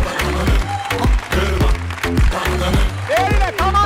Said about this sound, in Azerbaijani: Gəlin iştirakçılarımızla alqışlayaq.